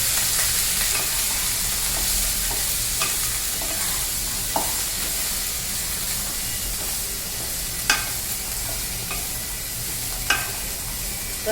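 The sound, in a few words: stirring green beans, capsicum and ginger-garlic paste in a pan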